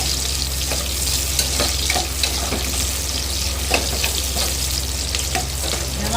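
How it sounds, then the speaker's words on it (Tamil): Curry leaves fry in a pan for a village-style country chicken curry, giving a steady loud sizzle with crackling pops and light scraping stirs throughout, over a low hum. "இப்போ நம்ம என்ன செய்ய போகிறோம், இந்த கருவேப்பிலையை போடுறோம்."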